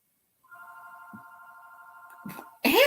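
A household landline telephone rings with a sustained electronic warble, fairly loud and steady for about two seconds, cut off by a sudden burst of louder noise at the end.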